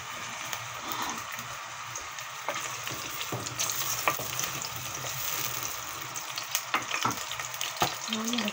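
Shrimp sizzling and crackling in hot oil in a pot alongside onion, garlic paste and green chilies, a steady close frying hiss with occasional louder pops and stirring clatter.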